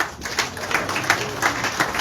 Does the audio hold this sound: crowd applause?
yes